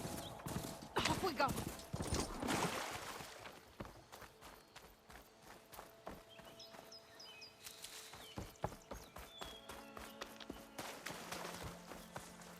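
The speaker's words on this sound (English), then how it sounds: "Nice little bucking bronco right there." Horse hooves clip-clop at a walk and then a run in a western video game, with a brief whinny, while someone talks over the steady hoofbeats.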